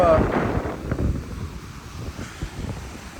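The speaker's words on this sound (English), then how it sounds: "it just got windier" Gusty wind buffets the microphone at a beach in Panama City Beach, a low rumbling roar that is strongest at the start and then eases to a steadier blustery wash, close and loud.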